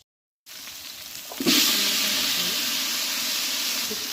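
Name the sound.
onions and dried red chillies frying in oil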